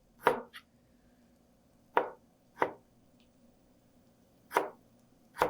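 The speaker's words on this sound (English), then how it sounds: "I'm going to cut really, really, really thin slices across the strings" A knife cuts very thin slices across the grain of the meat on a cutting board, each stroke landing as a crisp, isolated chop. Five or six irregularly spaced cuts sound close and fairly quiet, with no talking.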